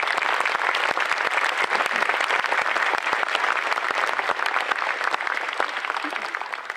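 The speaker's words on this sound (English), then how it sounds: "So please give them a round of applause for their support." An audience at a university press conference introducing a new head football coach claps steadily and loudly throughout, with crisp individual claps standing out in the sustained applause.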